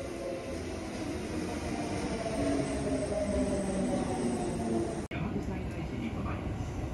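Steady rumble and hum of a Kintetsu train carriage in motion between Kintetsu-Koriyama and Nishinokyo in Nara, with a low rolling drone and faint rattles throughout, ending in a brief jolt.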